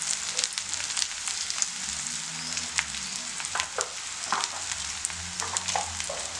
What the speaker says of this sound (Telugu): ఇప్పుడు ఇదంతా ఒకసారి మనం బాగా మిక్స్ చేసేసుకుందాం.